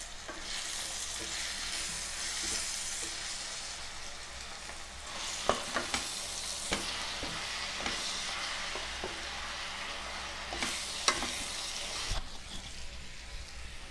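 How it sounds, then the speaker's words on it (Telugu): Tella garrelu leaf curry stirred in a pan: steady frying sizzle throughout, with a run of distinct scraping and clattering spoon strokes in the middle and again near the end, close and fairly quiet, no talk. "ఒకసారి కలుపుకుందాం."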